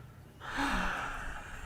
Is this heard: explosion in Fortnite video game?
no